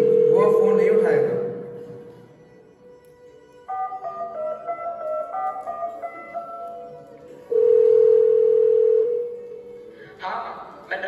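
A telephone rings on and off without being answered, a steady electronic tone alternating with pauses, loud and close, with a brief melodic phrase partway through.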